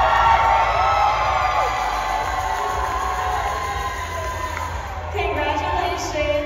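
A crowd of family and friends cheers and whoops for a contestant at the Miss California USA 2024 pageant, a loud, sustained roar of mixed voices that swells again near the end.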